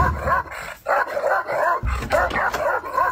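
A dog barks repeatedly and excitedly nearby, sharp yelping barks in quick irregular bursts with short gaps between them and no talking over them.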